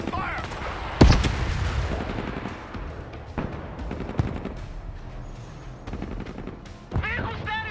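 Gunfire and artillery bursts in a Broken Arrow battle mission, with sharp loud shots and blasts scattered through the clip over a steady rumble, while unit voice lines talk over the combat.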